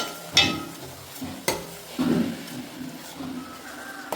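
Tomato frying gently in a pan while a utensil stirs and scrapes it, with a few sharper clinks at intervals.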